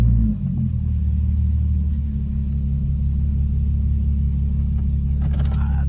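A Nissan 350Z engine with low compression rumbles low and steady as the car drives slowly nearby, with a brief clunk of movement near the end.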